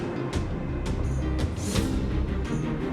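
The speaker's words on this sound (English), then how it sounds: "That noise! Do fragmentum monsters usually sound like this?" A fragmentum monster in Honkai: Star Rail gives off a harsh, dense static-like roar that runs continuously, broken by several sharp high-pitched bursts and sweeps.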